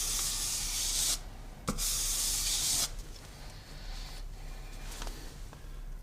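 The blade bevel of a Stanley hand plane is sharpened with long gritty strokes across a sharpening medium, making a few loud rasping hisses followed by softer, quieter rubbing.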